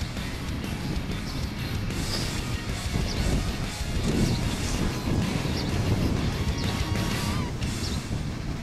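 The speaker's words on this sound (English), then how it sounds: "listen to that wind" Wind blowing across a microphone outdoors, a continuous loud rumbling buffet with gusty swells and no clear pauses.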